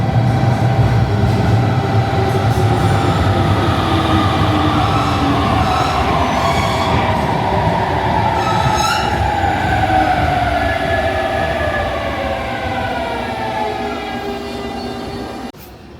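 A train pulls into a station in Fukuoka with a loud, close rumble of wheels and rising and falling squeals and tones, slowly fading as it comes to a stop.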